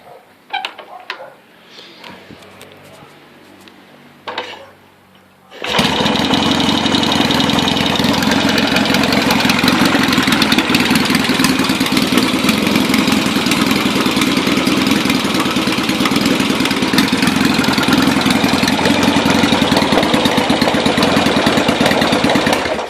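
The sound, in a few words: Yamaha XS650 motorcycle engine starting and idling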